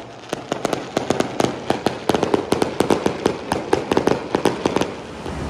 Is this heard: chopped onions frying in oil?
no